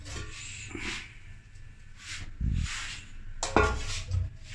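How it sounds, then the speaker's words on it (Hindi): Spice masala is rubbed by hand onto rahu fish pieces on a dish, producing soft, close rubbing and smearing sounds with a few light clinks of the plate. "चलिए जी अब हम इनको मसाला लगाते हैं"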